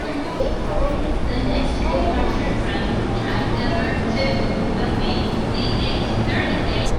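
A Tokyo subway train rumbles steadily in a loud, continuous wash of rail and carriage noise near Shibuya, with faint voices mixed in.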